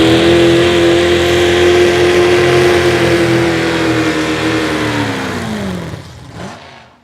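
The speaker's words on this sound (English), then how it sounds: "When the motor pulls down and the tires ain't going nowhere" A modified 4x4 truck at an outlaw tractor pull, its engine roaring loud and close under heavy load, holding a strained high pitch before bogging down and fading away near the end.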